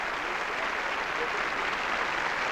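Polite, steady applause from the audience in the hall at the Eurovision Song Contest 1982, a dense even patter of clapping heard from a distance with no voices over it.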